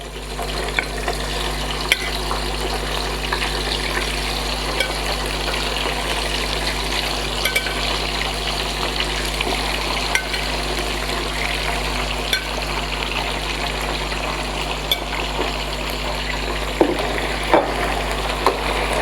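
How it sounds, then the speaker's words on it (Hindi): Koftas frying golden in hot oil in a home kitchen for kofta curry, a steady close sizzle and bubbling that runs unbroken throughout, with faint scattered crackles and no talking. "अब हम फ्राई कर लेंगे इनको, कोफ्तों को।"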